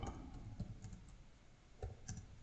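Close, quiet clicks of typing on a computer keyboard, a few irregular taps and short bursts of keystrokes.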